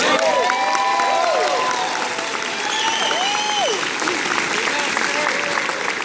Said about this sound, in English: First applause is free.